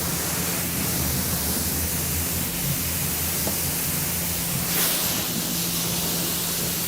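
A pressure washer spray wand rinses soap off a truck with a steady, loud, hissing spray that runs without a break.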